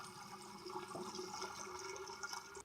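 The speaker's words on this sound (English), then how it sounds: "I just want to put some water in there." Water trickles and gurgles steadily as it is poured into the empty cooling system of a Renault 4 police car, a faint continuous liquid rush with no speech.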